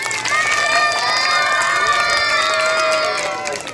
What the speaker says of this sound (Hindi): तालियां बजा दो जरा जोरदार सब लोग